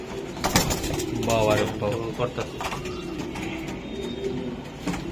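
Frightened racing pigeons coo in a home loft, with soft, repeated calls heard close under steady talk from a man.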